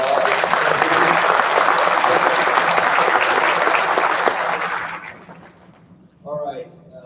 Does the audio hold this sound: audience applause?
yes